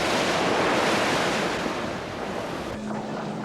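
Stormy ocean waves surge and crash under strong gusting wind, a loud continuous roar of surf and wind noise with no pause throughout.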